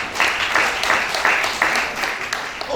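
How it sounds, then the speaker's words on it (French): A church congregation applauds for the pastor, loud steady clapping from many hands, close and continuous throughout, with faint voices mixed in. "Acclamons pour toutes ces réponses."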